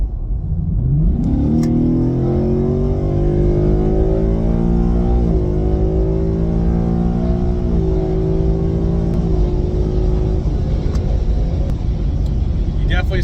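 A 2024 Mustang GT with a resonator delete, American Racing headers and a GT350 X-pipe revs loudly and steadily up and down, a deep continuous engine roar that holds for over ten seconds.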